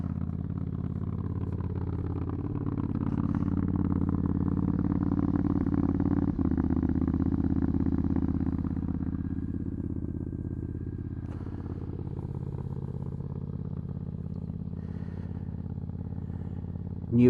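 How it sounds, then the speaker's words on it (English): A Triumph Bonneville motorcycle idles while warming up, a low, steady engine rumble with a slight rise in the middle and an even beat throughout, heard close by. "So I'm just warming her up and we'll set off"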